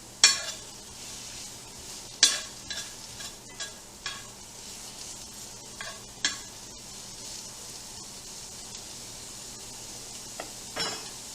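Onions sautéing with Swiss chard in a hot pan on a stove give a steady low sizzle, broken by several sharp scrapes and stirring knocks of a utensil against the pan, with no talking.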